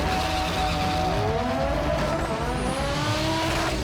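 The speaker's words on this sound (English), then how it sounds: "Warming up the tyres is essential at this level of racing as traction means more power to the ground." Import drag race cars warming up their tyres at the strip, with a loud continuous engine roar and high rising tyre squeal and skid, close and sustained with no voices.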